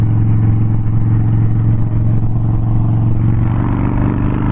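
A Harley-Davidson Dyna Wide Glide six-speed motorcycle engine rumbles steadily and loudly up close, a deep, even, low throb that holds without a break and has no speech over it.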